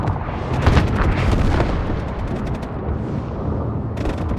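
Explosions and artillery fire rumble through a multiplayer video game battle, a dense continuous barrage of deep booms and crackling bursts, loud and layered without a break.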